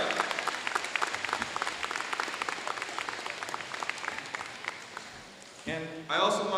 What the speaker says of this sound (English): Let's give a special applause for our parents